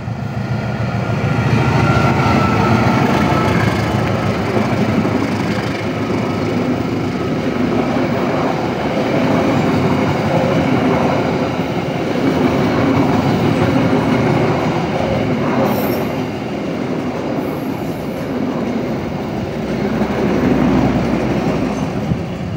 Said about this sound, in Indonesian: Kereta api Argo Bromo Anggrek relasi Surabaya Pasar Turi Gambir.